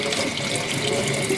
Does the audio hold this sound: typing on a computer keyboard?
no